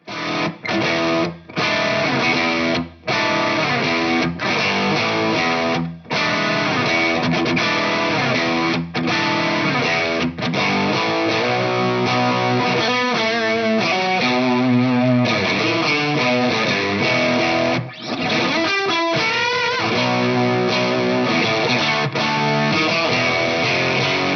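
A heavily distorted PRS Tremonti electric guitar through a Dr. Z CAZ 45 high-gain tube amp plays loud, chugging riffs and sustained chords with brief stops between phrases.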